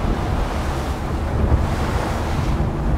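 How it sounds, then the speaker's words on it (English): A boat pushes through big, rough ocean swells, with constant wave roar and heavy wind buffeting the microphone, loud and continuous without any talking. "we're gonna ride this wave for a second. Here we go, going through the waves."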